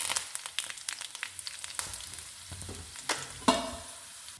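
Mustard seeds, urad dal, curry leaves and dried red chillies fry in hot oil for a tomato chutney tempering, giving a continuous close sizzle with scattered popping crackles and stirring.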